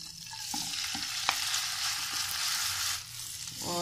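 Soaked sabudana roasting in ghee sizzles steadily in a pan, with a spoon stirring and occasional light scrapes and taps, close and continuous without talk.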